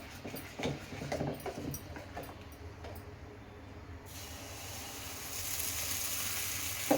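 Jowar dosa batter sizzles on a hot pan with a steady hiss that grows louder and brighter partway through, accompanied by a few light clatters early on.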